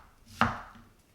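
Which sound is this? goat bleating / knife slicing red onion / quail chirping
knife slicing red onion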